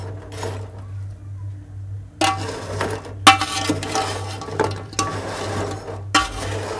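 Jaggery melting in a pan for athirasam syrup is stirred in bursts, with scraping and clinking of a spoon against the pan coming and going in separate loud stretches over a steady low hum.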